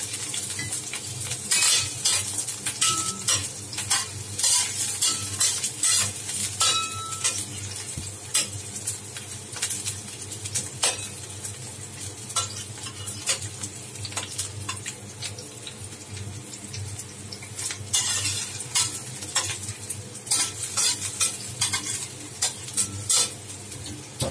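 Onions sizzle in a frying pan for a radish and minced fish dish, a constant close frying hiss broken by repeated scraping and clinking strokes of stirring throughout.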